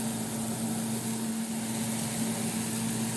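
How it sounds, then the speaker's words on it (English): A kitchen exhaust fan runs at maximum speed, giving a steady, close droning hum with a constant tonal whine and no breaks or voices. "I'm going to turn my exhaust fan to max because the kitchen is getting really smoky."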